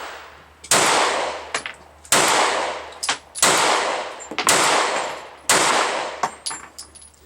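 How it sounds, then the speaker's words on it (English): Five sharp, loud gunshots from a Springfield Armory XDs-9 9mm pistol crack out at irregular intervals about a second apart, each followed by a ringing decay and faint clinks of ejected brass. "And I'll show you me shooting the 9mm now."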